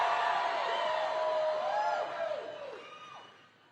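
A political rally crowd in Asheville cheering loudly, with whoops and whistles rising over a broad roar that gradually fades away.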